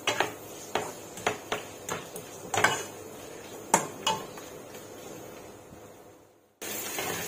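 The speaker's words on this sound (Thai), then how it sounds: "ผัดแฮมกับเห็ดให้หอมเลยค่ะ" Ham and mushrooms being stir-fried in a pan for a spinach sandwich filling, with a spatula clinking and scraping against the pan in irregular sharp taps over a low sizzle, close up, then a brief pause before the frying resumes.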